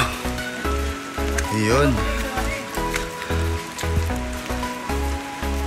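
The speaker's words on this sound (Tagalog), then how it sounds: "Maulan talaga guys ngayon ay." Heavy rain pours steadily at a hot spring in Jaro, Leyte, a constant wash of hiss beneath close voices talking throughout.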